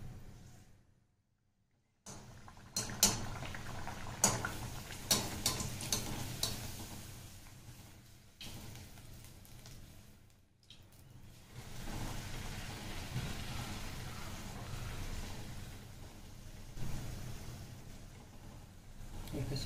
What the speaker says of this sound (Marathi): पुरी तळून घेऊया.